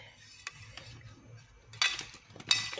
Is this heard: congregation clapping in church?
no